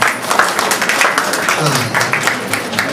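Wedding guests at Anitha and Vamshi's wedding clap in scattered, uneven applause lasting a few seconds, close by and fairly loud, mixed with background talk.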